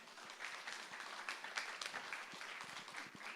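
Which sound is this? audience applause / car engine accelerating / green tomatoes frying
audience applause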